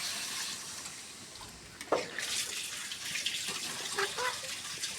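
Water is poured into a hot pot of sautéed arum root for rui fish curry broth, a sudden splash followed by a gushing, hissing pour that carries on to the end.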